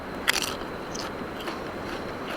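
One crisp, close crunch of biting into spicy seasoned chips, followed by faint chewing with no talking.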